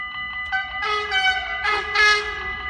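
An Arriva passenger train in Nieuwstadt sounds its horn. A few short toots come first, then longer, louder two-tone blasts, all clear and fairly close.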